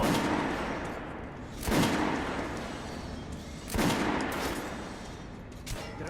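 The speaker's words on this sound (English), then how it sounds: "All right, Artyom, head over to my range and try out those guns." Gunfire at a shooting range in the video game Metro: Last Light: two heavy booming shots about two seconds apart, then a smaller thump, each ringing out over a dense ambient backdrop.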